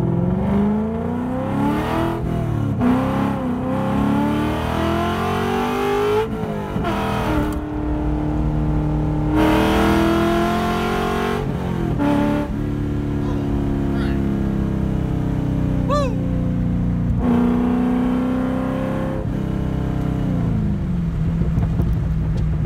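Coyote-swapped Ford Mustang Fox Body at wide open throttle, its engine note climbing in pitch through several gear pulls, loud and close inside the car with a steady exhaust rumble beneath.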